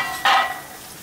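Chopped onion and garlic sautéing in a pan for Maharashtrian masoor masala, a short burst of sizzling as they hit hot oil, then fading quickly to a quiet hiss.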